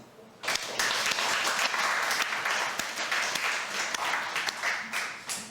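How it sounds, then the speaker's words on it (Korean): A church congregation breaks into steady applause at a sermon. Many hands clap together, loud and sustained for about five seconds, then fade slightly toward the end. "여러분 박수 한번 하세요."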